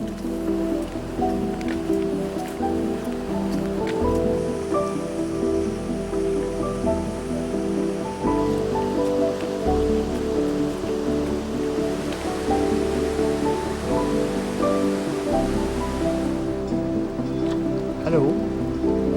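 Rain falls steadily on the mountain route toward Randa on the Chamonix–Zermatt walkers' haute route, a continuous dense patter that is loud and close throughout, with no talking.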